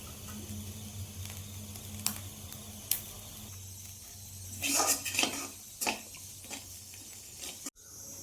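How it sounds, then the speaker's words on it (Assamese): Sesame seeds roasting in a pan, a soft sizzle broken by scattered sharp pops and metallic clinks of a utensil against the pan, close and fairly quiet. "অলপ তিলখিনি ফুটিছে, এতিয়া নমাই থওঁ।"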